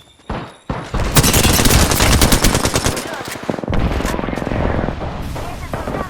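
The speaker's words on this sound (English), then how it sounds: "Look out, grenade." Weapons in the game Apex Legends fire rapidly after an opening blast from a grenade, with dense automatic gunfire continuing loud and close. Brief gaps break the fire throughout.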